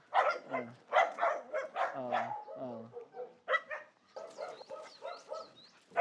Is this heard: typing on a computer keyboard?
no